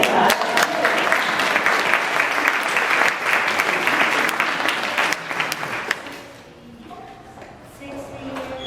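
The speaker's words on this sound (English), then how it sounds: "And I think that deserves a round of applause." Audience applause at a party for a longtime singing group, loud and steady clapping for about six seconds before it tapers off into quieter room sounds and a few voices.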